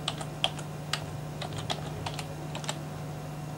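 Fingers type a folder name on a computer keyboard: a dozen or so crisp, irregular key clicks, close and moderately loud over a steady low electrical hum, with no voices.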